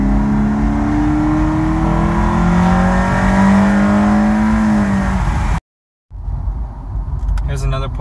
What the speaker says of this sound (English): I'm gonna do a few quick pulls to show off the sound.